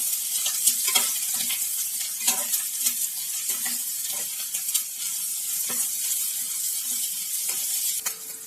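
Ginger garlic paste sautéing in a pan gives a steady, close sizzle, with a spoon scraping and stirring through it every second or so.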